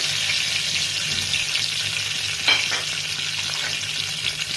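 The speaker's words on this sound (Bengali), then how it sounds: "রসুন কুচি দিচ্ছি তেলে" Chopped garlic sizzles in hot white oil in a kadai, a steady, close frying crackle with a brief stirring scrape midway and a faint low hum underneath.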